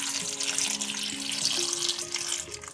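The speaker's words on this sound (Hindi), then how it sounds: "अब मैं इसमें ऐड कर रही हूँ 2 कप पानी।" Two cups of water poured from close by into a pot of strawberries on a low-flame stove, a steady broadband splash and trickle running unbroken for a few seconds with a faint hum beneath.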